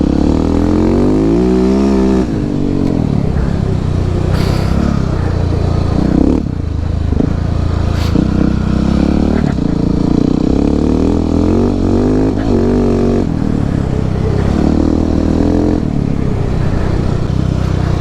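A Husqvarna 701 700cc supermoto ridden on icy, snowy roads, its single-cylinder engine droning loud and close throughout with rising and falling revs and wind buffeting, no talk.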